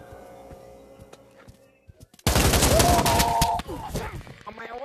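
Video game gunfire erupts as a loud, dense burst lasting just over a second, following quieter background sounds and a faint voice, then fades into lighter rattling.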